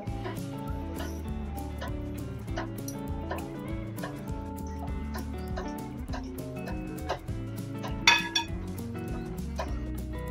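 Khandvi batter being stirred in a pan over low gas, giving a steady run of soft scraping and small clinks against the metal, with one sharper knock near the end.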